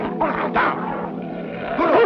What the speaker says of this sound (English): That's a real fine bear dog you got there